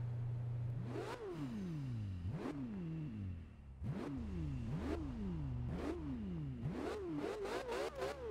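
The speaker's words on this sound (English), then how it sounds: "Listen to that engine, it's so sweet" A Porsche Carrera GT engine in Forza Horizon 2 repeatedly climbs through the gears, each rising high-revving whine cut by a quick shift, loud and close.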